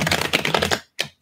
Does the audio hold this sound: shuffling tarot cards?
yes